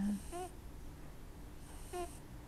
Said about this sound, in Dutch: snurkt een konijn